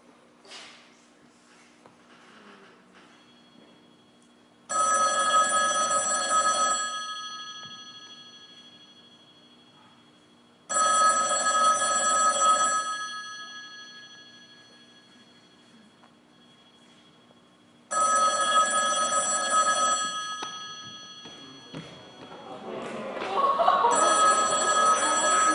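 A telephone rings in three long bursts separated by pauses, each a loud electronic trill that rises abruptly and slowly fades, with near-silence between rings and some extra noise at the end.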